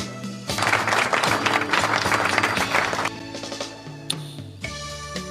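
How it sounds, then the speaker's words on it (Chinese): An audience applauds during a Cantonese stand-up comedy livestream, a dense burst of clapping for about two and a half seconds that then thins and fades into quieter room sound. "给你们一个掌声"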